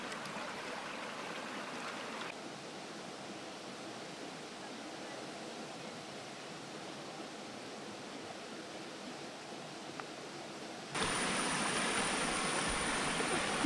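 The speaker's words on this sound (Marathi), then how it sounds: "त्याच्यावरून पाणी अगदी खळाळत वाहत होतं" A small stream on a plateau gurgles and rushes steadily over a stone, a continuous broadband wash of water that shifts in level partway and grows brighter and louder near the end.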